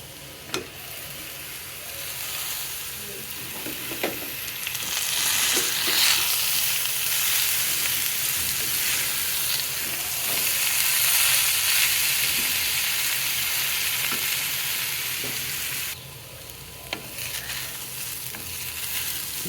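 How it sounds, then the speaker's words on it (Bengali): Beetroot frying in a pan for a vegetable dish with poppy seeds and sesame, a continuous close sizzle with occasional stirring scrapes throughout. "বিটটা ভাজা হয়ে গেছে"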